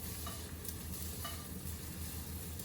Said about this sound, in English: using your spatula, you just want to flip, flip, flip